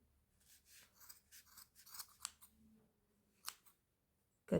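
Scissors snip through crochet yarn while a pom-pom is trimmed for granny square slippers, giving a quiet run of short, dry cuts and a sharper, louder snip at the end, with no talking.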